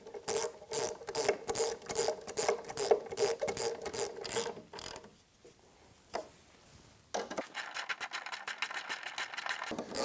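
A hand ratchet with a socket is worked back and forth, giving fast, close clicking bursts that stop for a brief pause and then resume with a steadier run of clicks.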